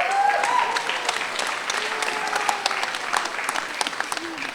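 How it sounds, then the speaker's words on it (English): A round of applause at a community gathering, a crowd clapping steadily with scattered individual claps standing out, with faint voices and a brief whistle-like tone near the start. "Give him a round of applause."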